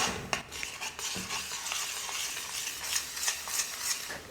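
A sweet sugar-syrup mixture is stirred continuously in a pan, with quiet, rhythmic scraping and light metallic taps of the spoon over a faint bubbling hiss.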